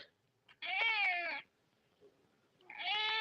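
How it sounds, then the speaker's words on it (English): A cat meows twice, two drawn-out harmonic calls separated by a short pause, close and clear against a quiet room with faint background crackle. "That's my cat meowing."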